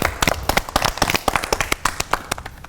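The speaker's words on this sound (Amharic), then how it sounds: "አጨብጭቡ ለራሳችሁ።" Children clap for themselves in a quick burst of sharp, fairly even handclaps on a televised Ethiopian kids' show, close and loud, fading slightly toward the end.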